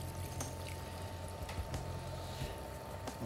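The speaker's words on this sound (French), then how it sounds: "on va mettre un demi-litre d'eau" Half a litre of water pours steadily into a mushroom consommé in a kitchen, a continuous low splashing gush heard close with no talking.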